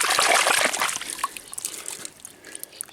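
A rock is dipped into a local California river, giving a bright splashy burst and trickle at first, then sparse drips and small sloshes fading out.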